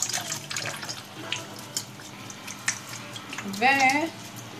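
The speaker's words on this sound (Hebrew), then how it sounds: "אני מסננת את המים המושרים" Soaked rice water drains into a kitchen sink, a splashing, trickling pour under a woman's speech, with a louder gush near the end.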